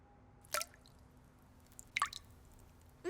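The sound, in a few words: dripping water faucet, cartoon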